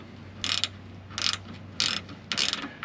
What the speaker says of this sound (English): take out that T25 fastener rather than struggling with it some other way